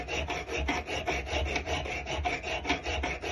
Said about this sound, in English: 120 grit sandpaper with a hard backing